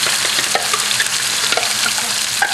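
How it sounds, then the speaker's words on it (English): Hot oil sizzles loudly and continuously in a wok as sambal goes in to fry for a Vietnamese wok-tossed eel dish, a dense, close frying hiss with stirring underneath. "now I've got some oil heating in the wok."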